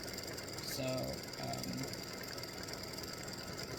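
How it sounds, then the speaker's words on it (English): An embroidery machine stitches freestanding lace Halloween spider earrings with a steady, close mechanical ratcheting and clicking rhythm, and a voice briefly speaks near the start. "This takes 22 minutes to stitch this set of earrings."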